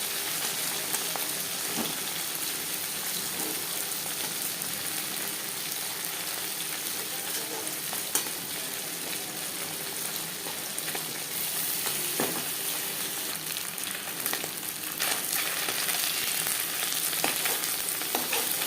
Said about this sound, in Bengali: একসাথে অনেকগুলো মাছ ভাজার জন্য একটু অসুবিধা হচ্ছে